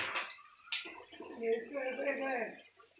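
Water splashes and runs close by while a person talks over it, the flow rising and falling across a few seconds.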